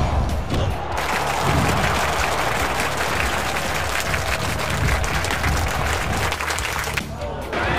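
A video game wrestling crowd applauds and cheers steadily, dense and loud, with a voice speaking over the noise at moments.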